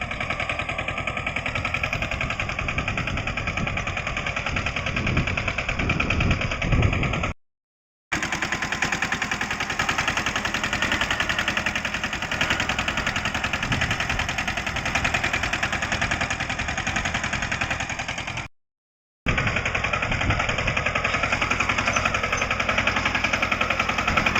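A diesel tractor engine pulling three ploughs together in a field, a makeshift setup, hammers out a rapid, steady, loud chugging throughout, with two brief cuts and no talk.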